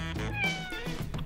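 A cat meows in a comedy skit about people acting like animals, one drawn-out close meow lasting about a second, loud and clear with no talk over it.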